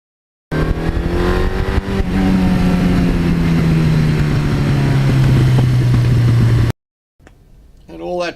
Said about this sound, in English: the sound that comes out of the engine is just beautiful